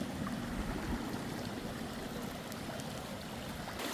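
Swollen creek after about four inches of heavy rain, rushing with a steady broadband roar and churning wash of water, loud and continuous throughout with no talk.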